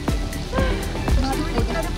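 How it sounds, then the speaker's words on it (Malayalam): Heavy rain pours steadily at Indriya Sands Adventure Park in Kuzhupilly, Cherai, a dense wash of noise that runs the whole time under people talking. "മഴ കൂടി അല്ലെ, മഴ കൂടി എന്ന് പറഞ്ഞ"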